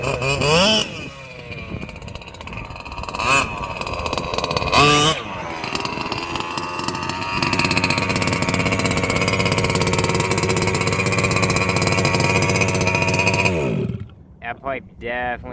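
A small pull-start engine runs through its exhaust pipe, loud and close, with a raspy, buzzing drone that rises and holds steady before it cuts off near the end. Voices speak over it at times.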